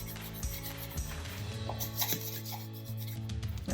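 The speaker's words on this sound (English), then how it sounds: "Now I'm just creating surface tension. My bench scraper is in contact with the counter." A metal bench scraper rubs and scrapes against a kitchen counter while sourdough is shaped, with soft, repeated rasping strokes close by and no talk.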